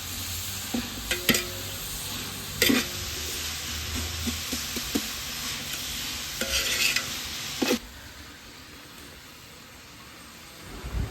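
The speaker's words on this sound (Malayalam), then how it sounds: "ഇന്നപോലെ ഒന്ന് ഇളക്കി കൊടുക്കാം കേട്ടോ നമുക്ക് ഒന്ന് വഴറ്റിയെടുക്കണം" About four kilograms of onions being stirred and sautéed in a large pot for a wedding-style ghee rice and chicken dish, with a steady low sizzle and several sharp scraping strokes of the spoon spread across the stretch.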